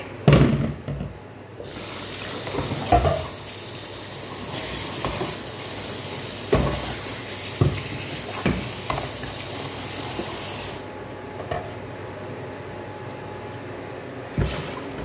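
Water drains from a kitchen pot in a steady rushing hiss lasting about nine seconds, close by, framed by scattered clicks and knocks of handling.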